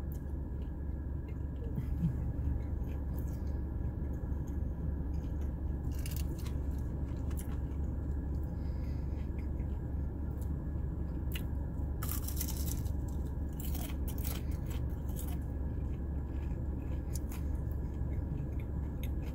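Biting and chewing a fried cheese stick from a fast-food variety box, soft close-up chewing and mouth sounds over a steady low hum, with occasional crunchy bites.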